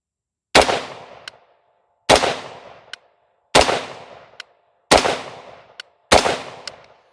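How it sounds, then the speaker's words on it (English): Five loud single rifle shots fired at a 10-yard target on an outdoor range, each a sharp crack with a short decaying echo, evenly spaced about one and a half seconds apart, with silence between them. "10 yard, shooting at that second black pasty."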